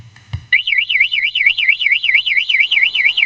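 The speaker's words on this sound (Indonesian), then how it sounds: "kita cukup menekan gambar lonceng ini untuk mengetahui motor kita di mana, maka motor ini akan berbunyi seperti ini." A V12 alarm fitted to a Yamaha MX Old motorcycle sounds its locator signal, a loud, close electronic wail warbling rapidly up and down in a steady cycle, preceded by a brief click and low thump.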